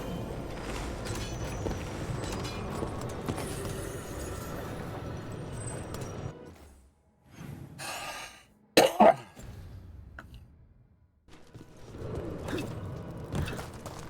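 A short cough bursts out in the middle of a Dragon Age: The Veilguard game scene, loud and close, after a stretch of dense game ambience and effects dies down; faint quieter game sounds surround it.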